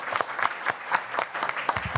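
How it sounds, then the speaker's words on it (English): Audience clapping for the maintenance and buildings and grounds division at a school board meeting, a steady spatter of hand claps with a few sharper near claps over a faint room murmur. "We can clap, please."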